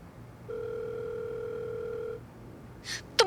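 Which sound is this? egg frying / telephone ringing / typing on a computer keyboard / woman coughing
telephone ringing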